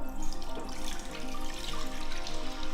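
Cloudy rice-washing water is poured from a pot into an empty saucepan, a close, continuous splashing trickle with bubbling, dripping texture throughout and no speech.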